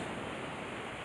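High surf on a winter beach, a dense, even wash of breaking waves heard as continuous broadband roar, faint and distant with no talk.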